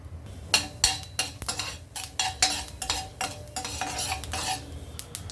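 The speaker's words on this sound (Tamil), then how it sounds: "இப்போ இந்த எண்ணெயில் கடுகு, உளுந்தம்பருப்பு, வெந்தயம் தாளிச்சிக்கிறேன்." Mustard seeds, urad dal and fenugreek tempering in hot sesame oil, with bursts of crackling and spattering and a few utensil clinks, close and fairly loud, no talk.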